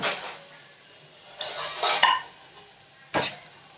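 A utensil stirs crushed peanuts into softened raw mango in a pan, with a low sizzle underneath and a few distinct scraping strokes and metallic clinks spaced out across the stretch.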